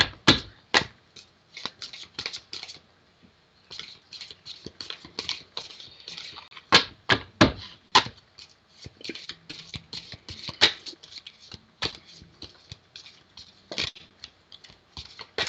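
Crisp, rapid riffling and slapping of tarot cards being shuffled, in bursts with short pauses, close and fairly loud, with no talking.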